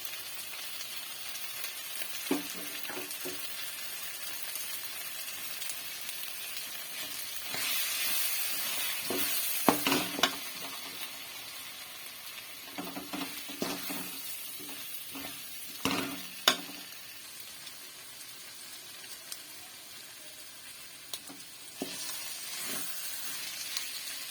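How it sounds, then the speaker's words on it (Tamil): Mutton liver and potatoes with pepper sizzle and fry steadily in a pan, with intermittent scraping and clinks of a spoon stirring, close by and fairly loud throughout. "மிளகுத்தூள் சேர்த்து ஒரு அஞ்சு நிமிஷம் கிண்டி விட்டாச்சு"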